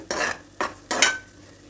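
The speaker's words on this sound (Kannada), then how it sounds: "ಇದು ಸಾಕಷ್ಟು ಫ್ರೈ ಆಗಿದೆ ಕಡಿಮೆ ಫ್ಲೇಮಲ್ಲೇ ಇಟ್ಕೊಂಡಿದ್ದೀನಿ" Spinach pulao masala fried on a low flame in a pan, heard as three short scraping stirs of a utensil against the pan with soft sizzling between them, close and quiet, with no one talking.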